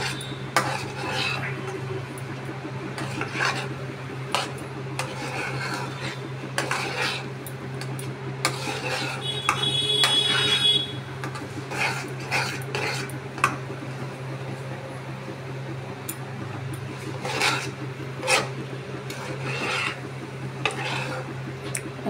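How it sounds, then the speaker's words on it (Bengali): A spatula scrapes and stirs a thick coconut sweet with ghee in a metal wok, with steady repeated scraping strokes and occasional clinks, close by and moderately loud. "কিন্তু এইভাবে নাড়াচাড়া করতে হয়"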